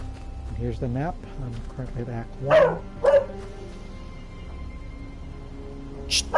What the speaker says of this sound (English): I have 4 dogs and they always bark whenever somebody's nearby my place.